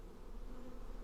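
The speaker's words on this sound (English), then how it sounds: "The voice is breathy and strange, more a suggestion of words than an actual voice as such, like it's echoing from somewhere," Strange breathy buzzing with echo and overlaid tones, a steady insect-like drone that holds evenly and fairly loud throughout.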